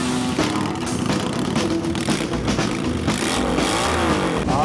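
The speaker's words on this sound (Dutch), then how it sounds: "Start de motoren." Several motorcycle engines starting and revving together at a motorcycle blessing event in Lindenheuvel, loud and close with overlapping throttle blips and rising revs.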